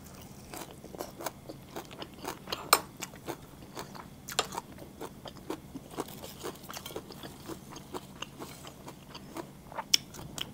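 Crispy fried jackfruit leaves, served with Thai duck larb, crunch loudly in close, repeated bites with irregular chewing and scraping crackles.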